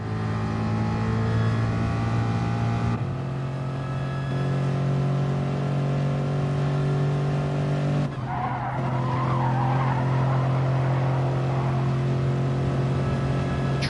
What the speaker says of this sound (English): Tries to go down the inside, but that Lexus won't be enough for the Ford's straight line speed down that final straight